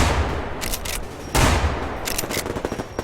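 Rapid bursts of automatic gunfire in the online shooter Survarim, loud and close, with dense fusillades separated by short pauses and no voices over them.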